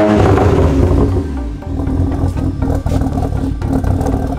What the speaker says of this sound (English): Why does it sound like my 335i has a carburetor?